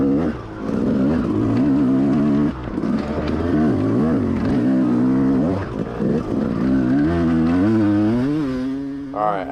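A dirt bike engine labours close by on a slick, rocky woodland trail, revving and grunting continuously with rising and falling pitch as the rider works through the rough ground.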